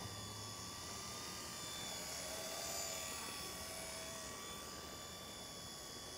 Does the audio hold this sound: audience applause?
no